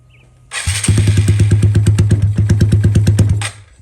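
A Honda Grom motorcycle engine with a different injector and cam starts up close and loud, then runs at a fast, steady, chugging high idle for about three seconds before cutting off.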